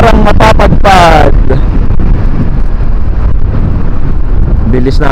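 Strong wind buffets the microphone as a motorcycle rides at around 80, making a loud, constant low roar. Someone speaks briefly over it at the start.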